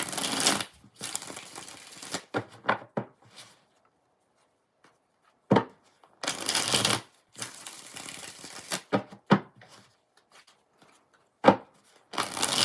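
Tarot cards are shuffled in several quick riffling bursts, crisp and close, separated by short pauses of near silence.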